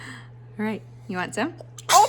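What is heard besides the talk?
child sneezing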